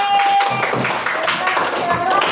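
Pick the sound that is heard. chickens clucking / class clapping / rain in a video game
class clapping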